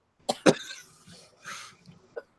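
Two sharp coughs close together, then a rougher, breathy cough a moment later and a small final hack, close and fairly loud.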